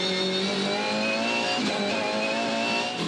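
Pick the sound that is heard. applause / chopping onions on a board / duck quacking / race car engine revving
race car engine revving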